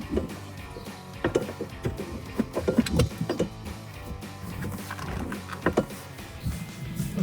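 Jeep Wrangler JL seat sliding back on its rails during a Misch 4x4 BigBoy seat bracket install, giving a series of close clunks, knocks and metallic rattles at uneven intervals with no talking.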